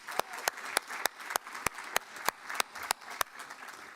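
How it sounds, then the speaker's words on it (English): Applause at a college racing victory banquet, with a handful of distinct, evenly spaced claps standing out over a softer background of clapping. "how about a big round of applause for Molly and her leadership this year?"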